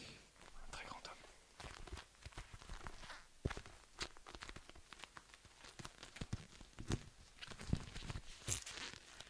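Gripping gloves handled close up, with soft rubbing, crinkling and brushing bursts in an irregular rhythm and quiet whispering throughout.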